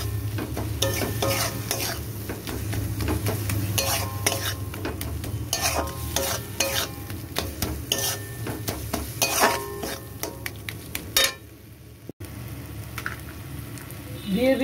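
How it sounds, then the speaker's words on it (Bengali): Chilli, chilli flakes and ground coriander-cumin spice sauté in a pan, with frequent metal spoon scrapes and clinks over a soft sizzle and a brief quieter pause near the end. "এবার এগুলোকে ভালো করে আমি কষিয়ে নেব"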